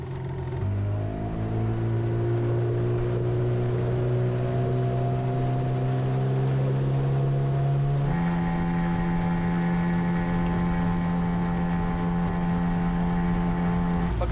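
A narrow, long HDPE motorboat runs on a river, its outboard engine droning loudly and close with a strong steady whine that steps up in pitch partway through as it revs higher.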